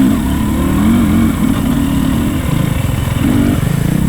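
A Husqvarna dirt bike engine roars close and loud during a hare scramble at Beaver Ride Park, holding a continuous throttled drone with pulsing revs as the rider gets on the gas along a short straight.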